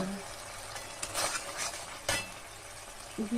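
Spiced water poured into frying masala for shorshe ilish (hilsa in mustard sauce), giving a hissing sizzle with a few sharp bursts and spoon-scraping stirs, close and moderately loud, with no talking.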